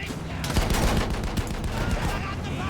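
Battlefield 1 gunfire rattles in dense, continuous bursts, close and loud, with sharp overlapping shots across the whole stretch. A voice is mixed in underneath.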